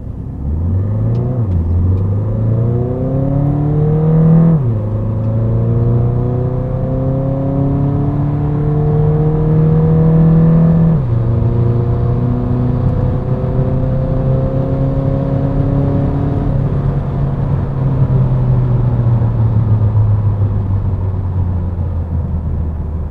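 A Renault Megane GT 1.6 dCi with EDC6 gearbox in manual mode accelerates, its diesel engine rising in pitch through each gear and dropping sharply at two shifts before settling into a steady cruising drone, heard from inside the car.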